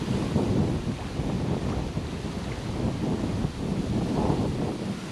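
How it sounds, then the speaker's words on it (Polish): Strong warm wind blowing across a carp fishing lake, a steady roaring gust that buffets the microphone continuously with no voices. "Mamy wiatr w dobrą stronę, bo jest ciepły wiatr w naszą stronę"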